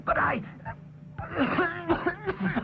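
Coughing and throat clearing in several rough bursts, close up, mixed with voiced sounds.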